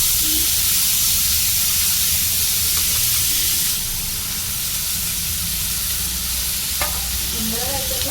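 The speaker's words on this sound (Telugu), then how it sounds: "అదే ప్యాన్లో ఈ దొండకాయ ముక్కలు వేసి మగ్గించుకోవాలి" Pieces of ivy gourd hiss and sizzle steadily in a hot pan, a loud, close, continuous frying noise that eases slightly partway through, with an occasional faint clink and no talking.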